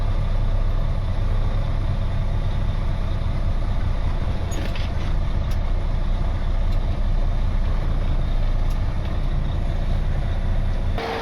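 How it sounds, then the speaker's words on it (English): A truck's engine idles steadily at a standstill after arriving at a job site, a continuous low diesel rumble that holds at an even, loud level throughout with no voices over it. "I haven't even shut the truck off yet. The truck's still running"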